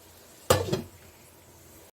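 A metal lid set down onto a cooking pot in a home kitchen where a papaya vegetable curry is simmering, giving one sharp clatter with a short ringing rattle, close by, then quiet.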